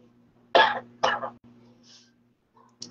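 Two short, harsh coughs close to the microphone, followed by a quiet pause with faint background hum and a small sound near the end.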